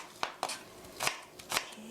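Kitchen knife chopping onion on a cutting board while preparing oyster mushroom and egg soup: four or five separate sharp taps at an uneven pace, close and fairly quiet.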